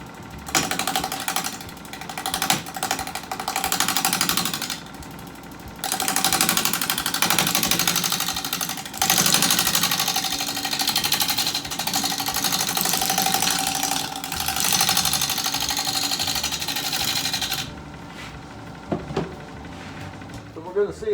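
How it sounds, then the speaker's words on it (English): A carbide cutter runs with a steady whirring, grinding drone that holds for long stretches, briefly drops out, then resumes before winding down near the end. "I think we're going to start with the carbide cutter again."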